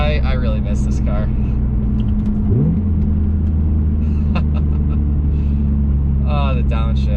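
A car engine hums steadily up close from inside the cabin, with a brief rev blip as the driver downshifts and faint background sounds on top.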